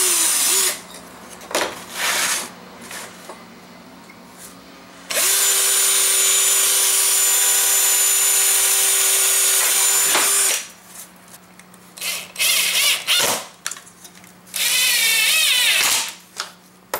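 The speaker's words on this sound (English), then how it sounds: "So now just drill it." A power drill bores holes through pipes for homemade dual linked flight-sim yokes, running loud and steady for about five seconds, then again in shorter bursts between handling clatter and knocks, close by with no talking.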